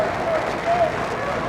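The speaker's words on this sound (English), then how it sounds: "And that gets applause from the folks watching here" Spectators applaud at Gallo Arena during a Cape Cod high school hockey game, a steady wash of clapping and crowd noise throughout with a whistle-like tone briefly rising above it.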